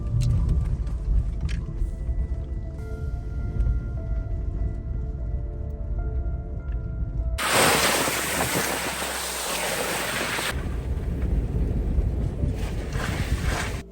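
A car drives along a road through villages on the Zambezi River floodplain, its steady engine and road rumble running continuously with heavy wind buffeting, and a harsh rush of wind noise takes over midway before settling back.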